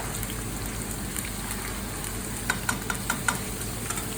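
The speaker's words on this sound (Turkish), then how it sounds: "Evet, patatesimiz kızarmaya başladı." Potatoes frying in oil in a pan with a steady, crackling sizzle throughout, joined near the end by a few light, sharp ticks of spattering.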